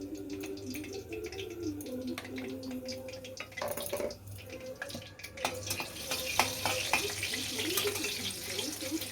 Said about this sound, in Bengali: এখানে লাল শাকে ফোড়নে দিয়ে দেবো শুকনো লঙ্কা, কালো জিরে